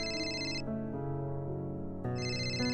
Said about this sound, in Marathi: आनंदीचाच फोन आहे.